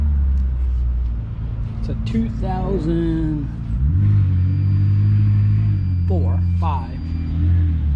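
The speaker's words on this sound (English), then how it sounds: "So we got a Mercedes Compressor C230." A Mercedes-Benz C230 Compressor, a 2004–2006 model, idles with a deep steady engine rumble and a brief rev partway through, while someone talks close by over it.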